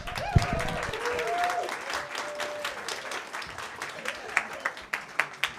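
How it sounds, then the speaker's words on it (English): Audience at a comedy club breaks into loud applause and cheering, a dense roar of clapping that thins into scattered individual claps toward the end, with a voice speaking over it early on. "Make a loud round of applause for your next comedian."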